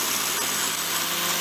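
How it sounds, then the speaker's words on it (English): A drill and a grinder work metal while making a top cover hydraulic plug for a Fordson Dexta tractor, giving a loud, steady, unbroken whirring roar close by. "I'm trying to make sure that I don't put too much load onto the drill and the grinder."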